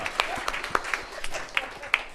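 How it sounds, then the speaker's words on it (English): Applause from an online show-and-tell audience for paper engineers, with scattered sharp claps over a thin, steady patter rather than a full crowd roar. "applause for our paper engineers"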